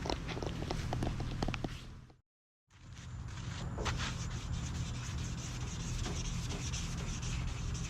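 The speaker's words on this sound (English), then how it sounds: "We got a good bit of wet sanding done" Wet sanding of truck fenders by hand with 400 grit sandpaper, a steady close rubbing rasp that cuts out briefly for a moment of silence, then resumes continuously.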